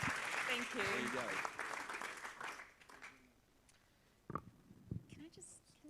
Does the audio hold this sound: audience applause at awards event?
yes